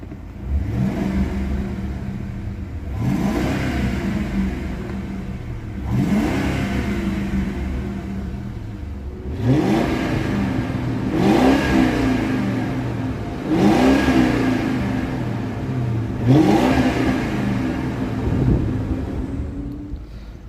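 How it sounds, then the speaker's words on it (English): A 2011 Ford Crown Victoria V8 revs repeatedly, with six rising pulls spaced a few seconds apart over a steady, close idle rumble and no talk. "nothing like a V8 engine"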